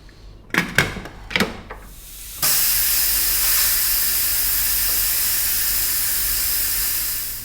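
A pressure cooker cooking meat releases steam in a loud, steady hiss that runs unbroken for several seconds, preceded by a few short knocks and clatters.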